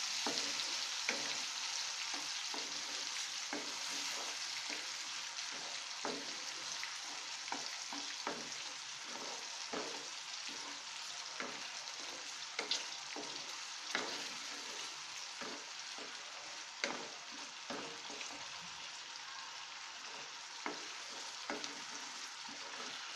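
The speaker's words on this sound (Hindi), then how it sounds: "हमें प्याज को ब्राउन होने तक पकाना है।" Onions sizzle steadily in a hot pan for aloo chole curry, with frequent short scrapes and clicks as they are stirred. The crackle stays close and dense throughout, with no talking.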